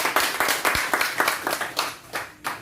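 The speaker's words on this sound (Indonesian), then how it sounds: "Sepakat. Tepuk tangan lah." Guests at a wedding reception clap in scattered, uneven bursts of individual hand claps, close and fairly loud, thinning out toward the end.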